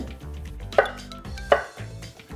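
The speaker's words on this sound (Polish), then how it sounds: "Pokroję od razu 4 jabłek, które dobrze umiłem, ze skórą." Apples with their skin on are chopped on a cutting board for homemade beet soup: two distinct knife thunks about a second apart amid quiet kitchen clatter, with no talking.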